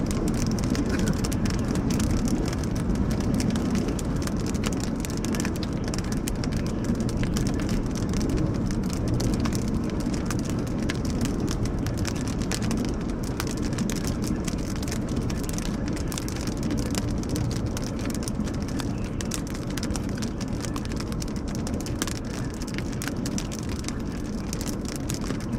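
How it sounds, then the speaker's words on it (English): Big hail pounds a vehicle during a close-range tornado chase near Beaver, Oklahoma, a dense, steady, loud drumming roar that continues without pause and without talk. "Big hail falling, so we gotta"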